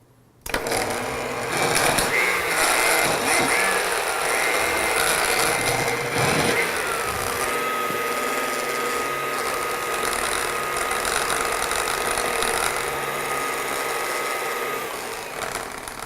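A blender with the lid on churns a thick garbanzo cookie dough thinned with almond milk, giving a steady, loud motor whir that runs without a break from the first second to the end.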